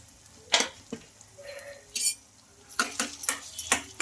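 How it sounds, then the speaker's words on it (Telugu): Spoon stirring chili powder into lemon pickle frying in a pan, with several scraping clinks of metal against the pot in an irregular rhythm, close and moderately loud, no talking. "కారం వేసుకొని బాగా కలిపేసుకుందాం"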